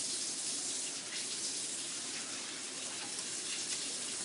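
Water runs steadily from a tap, a continuous close hiss and splash filling the whole stretch with no talking over it.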